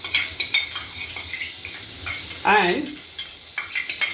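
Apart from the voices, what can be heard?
garlic, ginger and green chilies cooking in a pan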